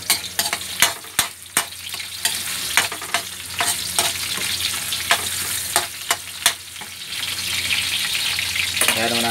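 Garlic and ginger fry in a pan with a bright, continuous sizzle. Frequent sharp knocks of a spatula against the pan come close up and grow into a fuller, steady sizzle toward the end.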